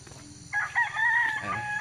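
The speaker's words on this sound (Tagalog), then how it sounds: "Nagbe-breed na sila ng manok ngayon guys." A rooster crows once, loud and close, a drawn-out wavering call lasting over a second after a quieter start with low background noise.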